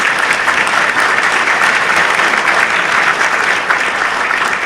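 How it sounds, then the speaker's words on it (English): Sustained audience applause at a university State of the University event, honoring graduated students: dense, steady clapping from a large crowd throughout, with no speech over it. "Let's give those students a round of applause."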